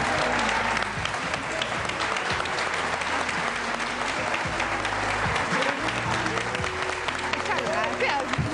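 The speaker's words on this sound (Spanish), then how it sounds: "Recibamos con un fuerte aplauso a la señora Carla Estrada" A studio audience on a Spanish-language TV talk show applauds loudly to welcome a female guest; dense, sustained clapping runs throughout, with music and a voice underneath.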